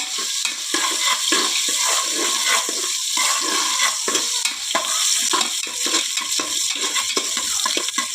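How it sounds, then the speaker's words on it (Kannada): Chopped onions fry in a pan while being stirred, producing a steady loud sizzle broken by repeated scraping strokes of the spoon, close and continuous, without talking. "ನೀರುಳ್ಳಿ ಸ್ವಲ್ಪ ಕೆಂಪು ಬಣ್ಣಕ್ಕೆ ಬರುವಷ್ಟು ಫ್ರೈ ಮಾಡಬೇಕು."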